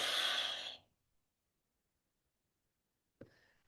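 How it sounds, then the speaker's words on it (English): A single long, breathy exhale during a breathing exercise opens the moment, then silence, and a brief soft breath sound follows near the end. "Exhale."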